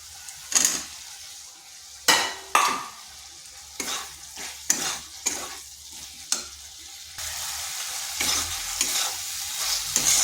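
Potatoes stir-fried in spiced masala in a pan for a vegetarian jackfruit curry: a spatula scrapes the pot in repeated sharp strokes over a continuous low sizzle that grows fuller toward the end.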